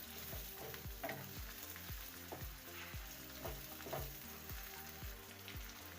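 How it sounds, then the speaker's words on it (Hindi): Two tomatoes fry in a pan for a chana dal and keema dish, giving a steady close sizzle broken by repeated rhythmic stirring knocks and scrapes. "2 टमाटर ऐड करेंगे और इसको भूनेंगे।"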